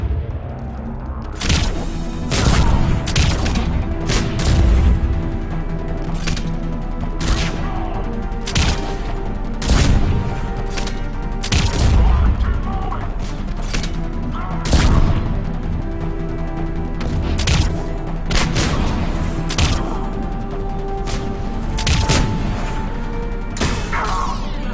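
A Mass Effect 3 firefight: dense, rapid gunshots and heavy impacts crack and boom continuously, with repeated sharp bursts over a constant rumbling battle bed.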